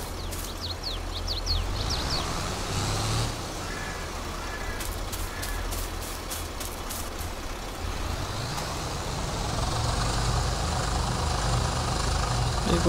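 Several tractors in Farming Simulator 22 strain together to drag a trolley loaded with potatoes that is stuck fast, their engines giving a steady loud drone throughout with a brief hiss and rattle partway through.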